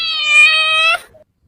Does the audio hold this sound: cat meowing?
yes